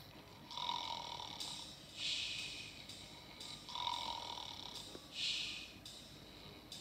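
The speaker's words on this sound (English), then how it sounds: "Are you snoring?" Snoring from a cartoon children's game show, several slow, soft, rhythmic breaths repeating in pairs of a lower snore and a higher wheezy exhale, faint and alone.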